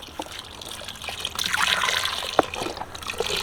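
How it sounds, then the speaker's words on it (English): Sam's Choice bone broth, from a 32-ounce Walmart bottle, is poured over ginger pieces in a pot, a close steady trickle and splash that swells partway through and continues alone. "But I'm going to completely cover this with bone broth."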